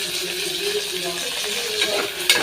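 Tomato sautéed with onion and garlic in a pan for a snake gourd kootu gives a soft, steady sizzle with light stirring clinks. It stays faint and continuous throughout.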